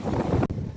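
Sea wind at Azuela Cove in Davao, facing the Samal Island connector bridge, buffets the microphone in a brief, loud, rumbling gust that cuts out and returns.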